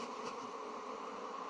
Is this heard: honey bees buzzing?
yes